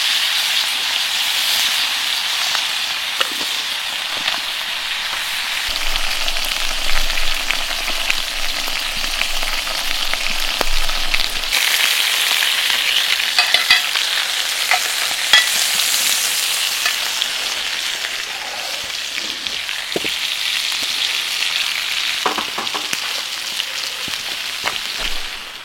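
Steaks and a couple of garlic cloves fry in a pan with a loud, continuous sizzle and hiss, crackling throughout with small pops, and no talk over it.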